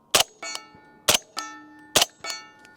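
Three subsonic 300 Blackout rounds fired through a Dead Air Sandman S suppressor on a Daniel Defense PDW, each muffled crack followed by a sharp ringing clang from a steel target, evenly spaced and alone.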